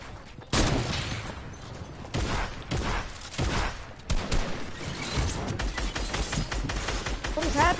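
Rapid bursts of video game gunfire crackle in several loud volleys with short gaps between them, dense automatic shots under players talking excitedly.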